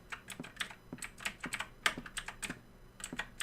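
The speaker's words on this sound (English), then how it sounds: "Sorry if the keyboard's loud, by the way." Fast, uneven typing on a loud, clicky mechanical keyboard, each keystroke a sharp close click in irregular bursts, with no voices.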